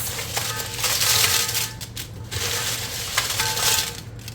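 Dry, brittle sun-dried yogurt-cured chillies rattle and crackle as they are shaken and stirred, in a few rustling bursts close up.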